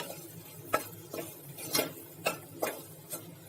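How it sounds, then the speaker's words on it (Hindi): A spoon stirs pumpkin gravy with dried fenugreek leaves, soaked Bengal gram and jaggery in a pot, making about six light clicks and scrapes at an uneven pace, moderately close, with no talk. "now we are stirring it nicely"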